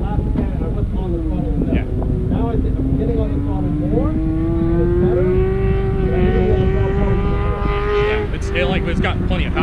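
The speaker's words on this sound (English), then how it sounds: "the car sounds amazing" A Toyota Corolla race car engine revving and accelerating hard on a track, its rising, whining tone loud and close over steady wind buffeting, with the pitch climbing through a long pull before easing off.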